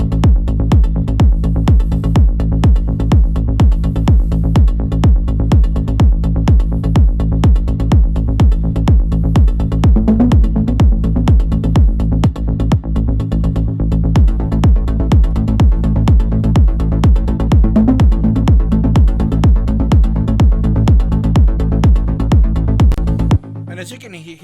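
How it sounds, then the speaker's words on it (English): An electronic progressive track drop pounds with a steady four-on-the-floor kick, deep bass and sub, and an acid lick weaving over the top, loud and continuous before it cuts off near the end. "if we just play kind of like the bass,"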